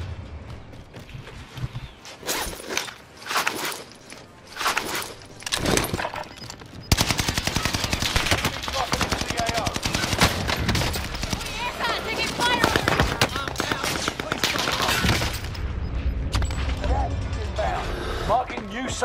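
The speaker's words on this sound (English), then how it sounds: "I'm under fire!" Machine gun fire in Call of Duty on Rebirth Island, starting as scattered bursts and then becoming a long, loud, sustained barrage, with players talking over parts of it.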